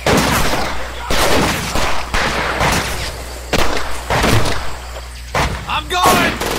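Bursts of rifle and machine-gun fire in the Medal of Honor Pacific Assault video game, sharp loud volleys repeating in clusters with short gaps, with shouting voices in between.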